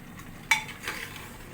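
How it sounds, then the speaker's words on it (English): A spoon scrapes once through mutton curry in a cooking pot, a brief close clink followed by a soft wet stirring swish, quiet and alone. "So we give it a stir. And let all this mix together."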